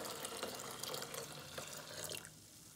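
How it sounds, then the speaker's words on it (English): Hot water mixed with vinegar is poured slowly into a water dispenser, giving a faint, steady splashing and trickling with small drips, quiet and without talk. "Now we're just adding that hot water vinegar mixture slowly so you don't hit yourself with hot water."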